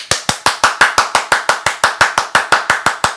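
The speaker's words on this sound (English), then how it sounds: "We're just going to do a pop quiz and see if you do the right number of claps." A group claps in time to 'Deep in the Heart of Texas', producing about eighteen sharp, evenly spaced hand claps, loud and close, in a steady quick rhythm with no talking.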